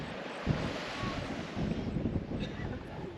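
Gusty coastal wind buffets the microphone in low rumbling bursts at Cape Range National Park, Western Australia, steady and close, with a soft wash like distant water beneath it.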